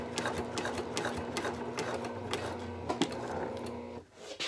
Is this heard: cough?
no